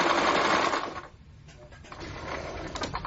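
A sewing machine stitches the edges of a fabric ruffle scarf, whirring loudly at first, then slowing and stopping before a softer run resumes.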